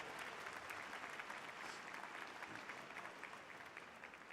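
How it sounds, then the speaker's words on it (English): Graduation audience at a high school ceremony applauding steadily, a dense wash of many hands clapping at moderate distance, sustained evenly for several seconds and tapering slightly at the end. "Let's give them a round of applause and to thank them for their support."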